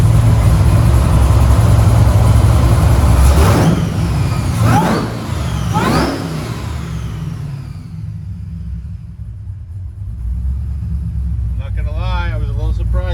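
A boosted truck engine rumbles at idle, revving up sharply a few times before settling into a low steady drone; a brief whine or voice appears near the end.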